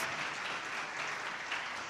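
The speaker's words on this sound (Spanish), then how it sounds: "Give our Lord Jesus a round of applause." A church congregation applauds during a worship service: steady, dense clapping from many hands, evenly sustained and moderately distant, with no voices over it.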